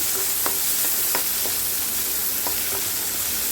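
Onion and tomato fry for beans palya in a pan, giving a constant close, bright sizzle with scattered soft scraping and tapping of a stirring spoon.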